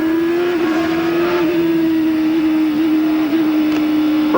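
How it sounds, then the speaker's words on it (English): A 1989 CART race car brakes hard into the corkscrew at Laguna Seca, its loud steady engine drone holding a sustained tone close by with slight pitch dips as it slows. "See the brakes on Daly's car as he slaps down on that pedal."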